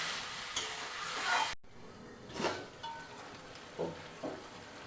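Banana flower curry being stir-fried in a pan, a faint sizzle with a few scraping stirs of a spatula spaced across the clip, close but quiet.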